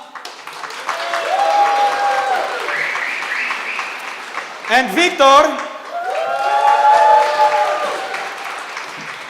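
Audience applause at a youth work panel event as two representatives are invited up, steady clapping running beneath a host's voice that keeps speaking over it.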